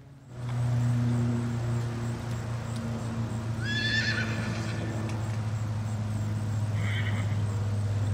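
A horse whinnies twice, a short shrill call followed later by a briefer one, set against a steady low engine-like drone throughout.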